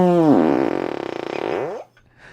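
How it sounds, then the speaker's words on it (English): A fart noise sound effect, one long loud buzzy blast of about two seconds that wavers and falls away, heard alone with no talk. "Will the fart noise wake him up?"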